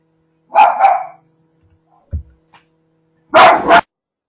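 Dogs bark close by in two short, loud bursts of a few barks each, with a quiet gap between them and no talking.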